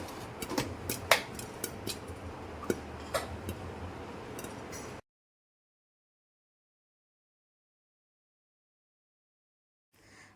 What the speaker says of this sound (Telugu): మూత పెట్టినప్పుడు ఆ వేడికి జొన్నలు పేలాలుగా మారుతాయి